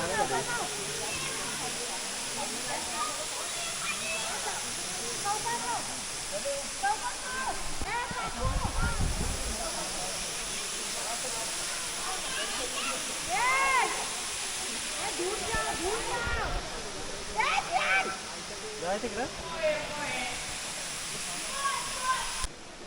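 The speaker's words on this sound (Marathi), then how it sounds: "हे बघा मालेश्वर धबधबा पाणी किती वाहत चाललेलं आहे" Marleshwar waterfall at a Ratnagiri temple site pours in a constant broad rushing roar, with bathers' voices and shouts rising over it.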